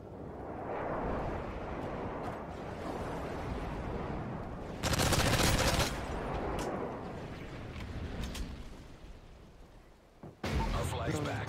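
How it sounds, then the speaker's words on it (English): A Delta airstrike in Modern Warfare 3 capture-the-flag play brings a loud burst of blasts and rumbling gunfire over constant battle noise, with a voice speaking through it. "Delta airstrike on the way."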